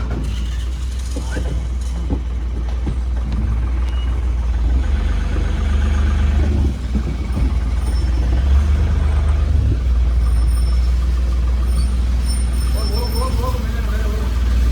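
A vehicle's engine runs and rumbles steadily as it is eased along a narrow road, loud and close, with voices talking over it throughout.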